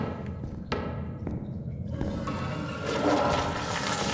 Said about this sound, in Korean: 설마 화장실에 있는 화장실 전체의 모든 변기물을 다 내려야 된다는 건 아니겠지?